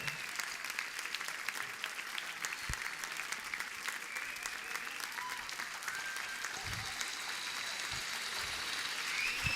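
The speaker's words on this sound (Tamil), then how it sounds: "ரொம்ப கரகோஷம் நிறைய எழுப்புறாருன்னு நினைக்கிறாங்க" Steady, enthusiastic applause from a sizable crowd at a teachers' appreciation ceremony during a Chithirai festival fills the whole stretch, dense clapping holding an even level throughout.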